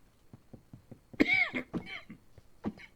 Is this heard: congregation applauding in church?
no